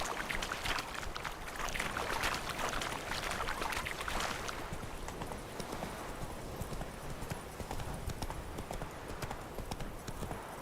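A horse trots in the open world of The Witcher 3, its hooves clip-clopping in a rapid steady rhythm close by for the whole stretch, with faint ambient game sound underneath.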